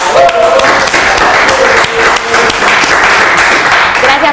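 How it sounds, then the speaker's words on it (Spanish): Studio audience on a Rosario television program applauds loudly and continuously, with a full, close burst of clapping that holds for a few seconds without pause. "Te regalamos este aplauso, Alberto."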